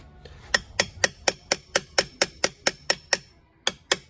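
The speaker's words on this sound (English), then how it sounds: "And I get a really small hammer." A really small hammer tapping a collet into its seat on a 1975 Series 3 Land Rover during restoration, about fourteen sharp metallic taps at a steady quick rhythm with a brief pause before the last two, close and clear.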